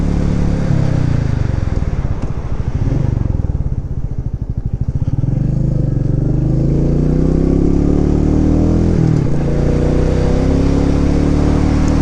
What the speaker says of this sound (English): Oh, there's a motorcycle behind me.